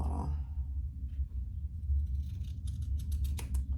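Scissors snip through strap webbing for a fabric zipper case. Several quick, crisp cuts come near the end over a quiet, low room hum.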